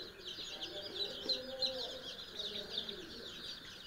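Chicks and chickens at a poultry chick farm in Muktagacha, Mymensingh, a steady chorus of many high peeping and clucking calls at moderate distance, with faint low voices underneath.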